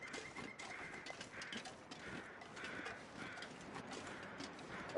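Hooves from a horse in The Long Dark survival game, a faint, steady clip-clop patter with a mechanical, ratchet-like rhythm, distant and alone with no talk.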